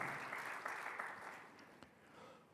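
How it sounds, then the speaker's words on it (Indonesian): Congregation applause at a Sunday worship service fills the room steadily, a dense wash of many hands clapping that fades gradually toward the end, with no voices over it. "Berikan kembali tepuk tangan."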